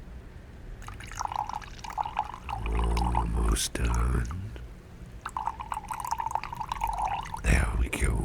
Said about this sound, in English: Let me pour this kind of funky water in 2 glasses.